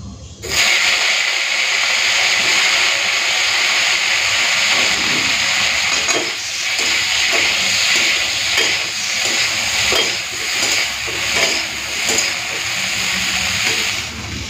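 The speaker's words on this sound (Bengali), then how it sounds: "এখন আমি ব্রকলিগুলো ভেজে নেব" Steady sizzling hiss of broccoli frying in a hot pan, continuous and close, with faint clinks of stirring now and then.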